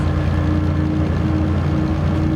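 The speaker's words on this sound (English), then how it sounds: "our DE6 is still pulling there, isn't it?" Diesel engine of a DE6 locomotive in Derail Valley, pulling a 700-ton train with a slug attached, gives a steady, loud low rumble with a constant drone that stays even throughout, with no talking.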